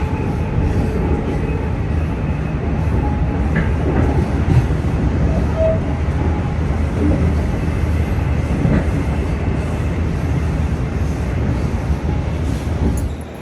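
Amtrak and NJ Transit trains move through Sunnyside Yard with a steady, loud rumble of rolling stock and faint rhythmic wheel clatter, sustained throughout and without any speech.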